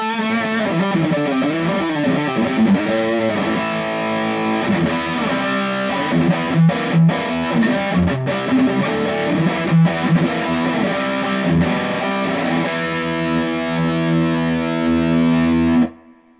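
An electric guitar played through a Peavey Bandit 112 amp with heavy distortion, mixing chugging riffs and sustained chords loudly and continuously with no talking, before ending in a sudden stop.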